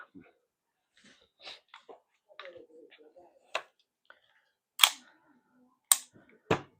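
A KJ Works CZ Shadow TS2 gas BB pistol fires a few sharp, isolated cracks spaced about a second apart, between quiet handling clicks and faint murmured voices.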